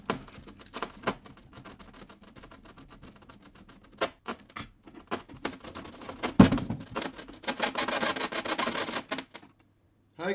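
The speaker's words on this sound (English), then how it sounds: "So just screw your screws in." Screws are driven into a plate on the wing of a Flex Innovations QQ Extra 300 model airplane, producing quiet, rapid ratcheting clicks in irregular bursts with short pauses between them.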